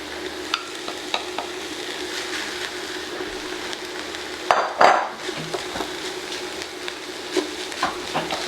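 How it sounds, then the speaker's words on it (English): Rehydrated TVP sizzling in a large pan, a constant close hiss with scattered clicks of a utensil, and a louder burst of sizzle and scraping partway through as it is stirred; no one speaks. "I'm going to add in the TVP, which has now absorbed all the water, and it's ready to start cooking"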